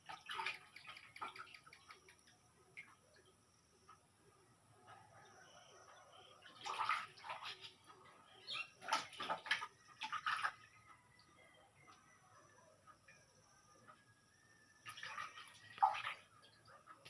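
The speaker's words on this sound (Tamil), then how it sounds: "நல்லா அலசிடணும். நல்லா வாஷ் பண்ணிடணும்." Fruit is washed in water with sloshing and splashing in several short bursts separated by quieter stretches, close and fairly soft, with faint dripping between bursts.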